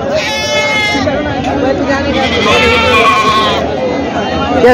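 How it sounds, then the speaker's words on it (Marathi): Goats bleat repeatedly at a crowded goat market in Parbhani, Maharashtra, wavering calls rising above a busy chatter of voices, with someone talking nearby. "या साईडला मित्रांनो संपूर्ण बकरी आहेत"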